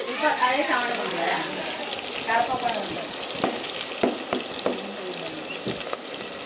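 A goat head curry, Telangana talakaya kura, fries in a pan while a ladle stirs it, giving a steady sizzle broken by sharp scraping clacks of metal on metal. Voices talk nearby throughout.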